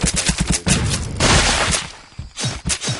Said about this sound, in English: That is a cannon.